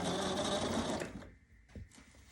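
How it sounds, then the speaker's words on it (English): A sewing machine runs a back stitch on a half apron, a loud rapid whirring stitch burst for about a second, then stopping, followed by a couple of soft handling clicks. "We're going to do a back stitch."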